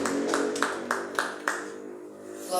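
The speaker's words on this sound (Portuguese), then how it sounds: "Pode estar de palmas para Jesus também" Church congregation clapping in a slow, even rhythm, five distinct group claps about half a second apart before trailing off, heard in a reverberant room.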